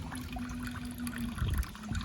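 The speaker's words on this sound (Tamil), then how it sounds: "தண்ணி வந்து இதில் ஃபில் ஆகி இது வழியாக வந்து கீழே போகும்" Water flows through a tube into a small aquaponics grow bed over an aquarium, giving a soft steady trickle with a faint hum and a few louder gurgling splashes toward the end.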